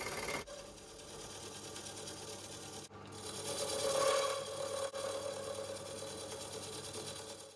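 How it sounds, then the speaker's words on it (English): A milling machine cuts the surface of a Kawasaki S1 four-cylinder crankcase half in a workshop, a steady close whirring drone that swells for a moment and then continues evenly, with no talking. "I start milling the surface and keep going until I go down to the line that I scratched on my scriber."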